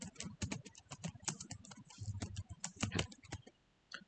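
Close, rapid typing on a computer keyboard, a dense run of quick key clicks with uneven rhythm that stops abruptly near the end.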